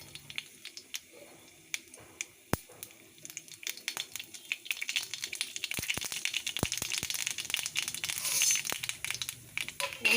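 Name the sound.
mustard seeds added to hot oil for tempering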